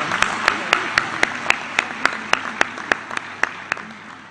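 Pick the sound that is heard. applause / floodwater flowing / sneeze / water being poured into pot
applause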